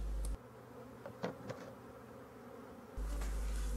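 A large honeybee swarm drones around a small hive, a steady low buzz near the microphone that drops away briefly in the middle while faint clicks and handling sounds come through, then swells again.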